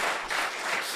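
Live audience applause at a business podcast recording, a short steady burst of many hands clapping, moderately loud and without voices.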